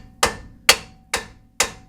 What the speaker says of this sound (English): You can also take your hammer